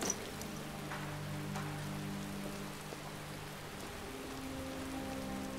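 Steady rain falling at night in the city of Riften in Skyrim, a soft, even hiss of drops on surfaces with low ambient hum, continuous and unbroken, no voices.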